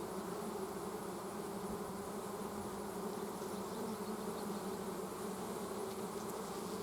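Honey bees hum around open beehive frames in a dense, steady drone that holds at an even level from start to finish, with no voices.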